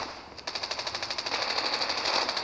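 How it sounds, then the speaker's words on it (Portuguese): Rapid automatic gunfire in a Call of Duty battle royale match played on an Android phone, a fast even burst of shots starting abruptly and continuing steadily, loud and close, with no talk. "Eu tô ouvindo uns tiros"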